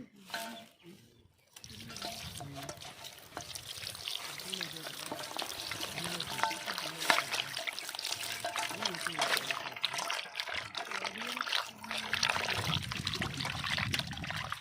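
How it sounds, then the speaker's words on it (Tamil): Quail meat being washed by hand in a bowl of water for a village-style pepper fry, with steady pouring, trickling and sloshing water running throughout, fairly close, while someone speaks at times over it. "இப்போ காடையை கழுவிடுவோம்."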